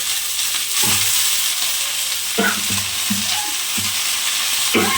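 Red amaranth leaves land in a pan of frying onions, a loud, steady close sizzle with irregular soft knocks and scrapes of stirring cutting through it every second or so, no speech.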